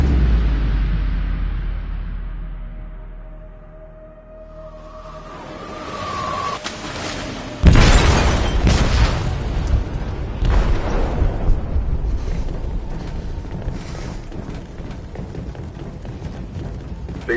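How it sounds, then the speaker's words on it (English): A powerful explosion rips through a ship's hold in the video game Detroit: Become Human: a sudden loud boom midway, then a long rumbling roar and debris noise after a quieter, tense buildup. "They detonated an explosive in the hold."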